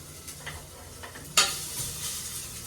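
Ginger garlic paste sautés in a pan for a country chicken curry, giving a constant soft sizzle broken by a few light scrapes of a stirring spoon and one sharper clink near the middle.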